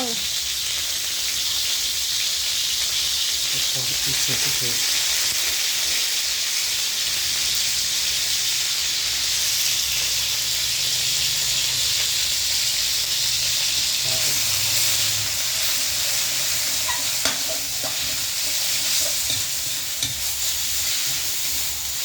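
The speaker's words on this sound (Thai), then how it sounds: "นี่ทำผัดกะเพรานะครับ ผัดกะเพราอีกสูตรหนึ่ง สูตรแห้งๆ นะครับผม" Dry-style Thai basil pork (pad kaprao) stir-fried in a pan: a steady, loud sizzle and hiss of frying meat runs throughout, with scraping and stirring movements over it.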